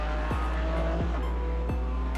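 A race car on a qualifying lap, its engine screaming close and loud with a strong tonal whine. The pitch climbs steadily and drops sharply at three quick gear changes.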